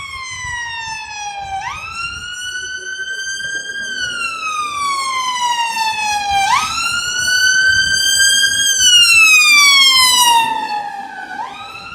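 Ambulance and police car sirens at a city street protest, loud and close, wailing in repeated rising and falling sweeps over steady traffic rumble.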